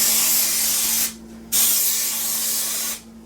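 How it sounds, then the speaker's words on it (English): Spray adhesive hisses from a can onto tolex while re-covering a Marshall 1960A guitar cabinet, two steady close bursts with a short pause between them. "now I gotta spray that"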